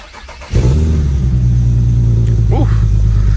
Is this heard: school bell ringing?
no